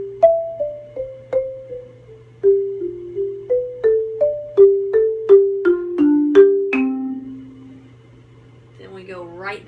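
Mallet percussion instrument playing line 4 of an eighth grade audition piece, a series of struck ringing notes in a steady rhythm stepping up and down, clear and close, followed by a brief voice at the end.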